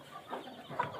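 A hen sitting on eggs clucks softly, two short, faint murmuring clucks close by in a quiet setting.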